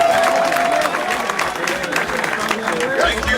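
Crowd applause and clapping at a Ugandan political gathering for the incoming president, a dense wash of hands mixed with crowd babble and voices throughout.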